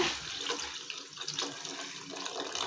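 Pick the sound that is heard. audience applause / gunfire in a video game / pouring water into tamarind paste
pouring water into tamarind paste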